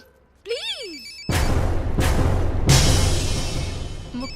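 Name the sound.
telephone ringing in a movie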